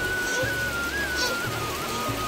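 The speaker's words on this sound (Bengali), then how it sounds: "দেখো কি জোরে বৃষ্টি হচ্ছে এখন" A steady wash of heavy rain falls on a rural home and nearby field, a constant broadband hiss with a faint thin tone running through it.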